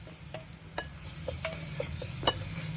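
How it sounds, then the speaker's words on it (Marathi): Ginger garlic paste fries with mutton in a pot over a wood-fired stove, a continuous close sizzle with several short scraping stirs spaced through it and no voices. "आता आपण याच्यात अद्रक लसूणची पेस्ट टाकायची"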